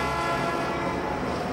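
Train passing in a 1999 film scene, a steady dense rumble with a tonal horn-like hum throughout, loud and continuous with no talk.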